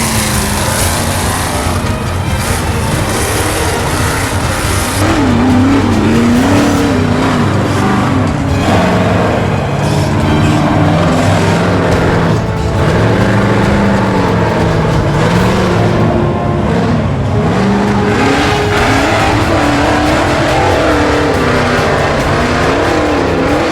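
Race cars roaring around a dirt track at a Southern Rock Racing event, a loud continuous wall of engine noise with pitch rising and falling as cars rev, pass and accelerate, sustained throughout with no talking.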